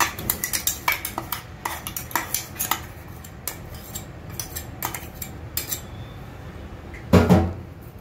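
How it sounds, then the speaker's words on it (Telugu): A spoon clinks and scrapes against a bowl while cucumber pieces are tossed through a thick pickle paste, steady close scraping taps with a louder clatter near the end. "దీన్ని బాగా కలుపుకోవాలండి. ఆ పేస్ట్ మొత్తం ముక్కలకి బాగా పట్టేలాగా ఇలా కలుపుకోవాలి."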